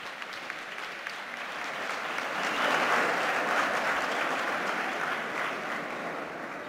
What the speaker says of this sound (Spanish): Este es el aplauso de todos ustedes para ellos.